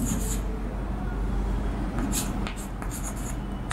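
Chalk or marker strokes scratch across a board during a chemistry class, a steady scraping run with short bursts of writing, fairly loud over a low background hum, no talking.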